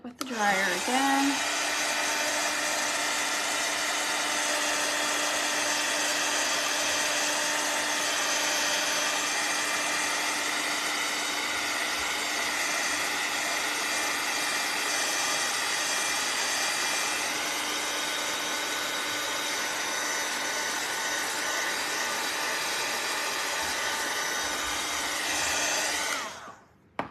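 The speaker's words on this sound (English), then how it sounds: "Hit it with the dryer again." A hair dryer blows steadily and loud at close range for nearly half a minute while drying paint on a wooden Fourth of July porch leaner, droning continuously before switching off at the end.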